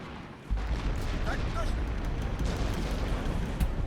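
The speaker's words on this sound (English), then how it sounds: "those trees are triggering the HE shells" High-explosive tank shells burst against trees in the Assault Squad 2 World War II strategy game, with a sudden booming impact followed by rumbling blast noise and a later crack, under a voice talking.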